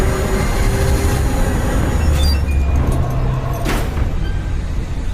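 A train rolls along the rails with a constant loud rumble and a faint metallic wheel squeal rising and fading partway through.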